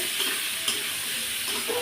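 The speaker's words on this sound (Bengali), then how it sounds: "এবার এটা একটু ভাজা ভাজা হয়ে গেছে।" Greens for a Malabar spinach dish fry in a pan, a close, steady hiss with the scraping of a spatula stirring throughout.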